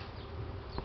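Honeybees flying around their hive on a warm spring day make a dense, continuous buzzing hum, steady and close, with one slightly louder pass near the end.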